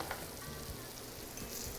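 Food sizzles and fries in a pan as Louisiana chef Johnnie G cooks, a steady close hiss of hot oil with faint crackles and no voices.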